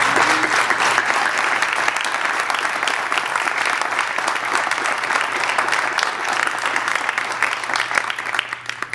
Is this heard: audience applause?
yes